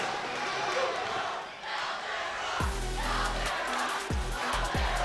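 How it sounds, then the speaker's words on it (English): A crowd at a destructive robot fighting event roars and cheers loudly and continuously, with deep booming thuds cutting in partway through. "You can hear the crowd is going nuts for Caldera."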